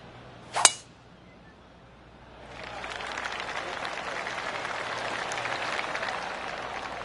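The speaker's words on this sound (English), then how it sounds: "I can hear the golf claps around the course" Scattered golf claps patter around the course in the PGA 2K25 video game, a soft, spread-out applause that swells in after a sharp metallic ping and carries on as a steady distant rustle.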